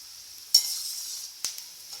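Moong dal vadai fry in peanut oil with a soft, steady hiss. Two sharp crackling bursts stand out as the fritters bubble, and there is no talking.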